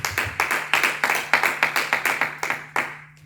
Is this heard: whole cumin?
no